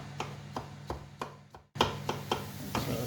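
A knife chops mushrooms finely on a board, eight or so crisp, evenly spaced strikes close by, with a brief pause midway before the steady rhythm resumes.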